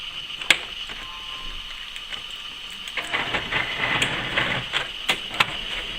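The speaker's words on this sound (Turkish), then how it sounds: "Yazıcımız dakikada 55 sayfa yazılmaktadır." HP Pro X476 ink tank printer printing pages, a steady mechanical whir with rhythmic paper-feed clicks and sharp ticks, growing busier partway through, heard alone without talk.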